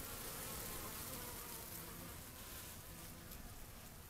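A dense, steady hum of many honeybees buzzing together inside a cage, close and continuous, with no voices.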